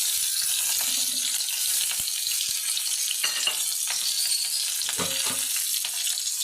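Chili, onion and shrimp sizzle in hot oil in a wok, a steady hissing fry with occasional soft clinks and stirring.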